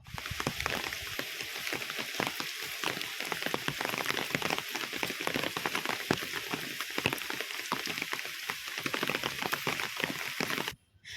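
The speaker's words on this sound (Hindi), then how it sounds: "ये बारिश रुकने का नाम नहीं ले रहा था" Steady heavy rain pours down on a surface at close range, a dense continuous patter with no voices, cutting off abruptly near the end.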